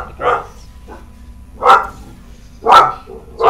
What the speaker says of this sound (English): Someone's barking like crazy.